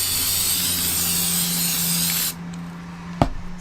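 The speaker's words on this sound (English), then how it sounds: "So I'm going to spray it down" A loud, steady aerosol hiss for about two seconds, then it cuts off, followed by a short knock.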